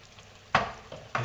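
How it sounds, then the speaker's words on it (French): A spoon stirs asparagus risotto rice in a pan, giving two short scraping, sizzling strokes close by, with a soft bubble of cooking beneath. "Pendant la cuisson du riz, donc je mélange sans cesse."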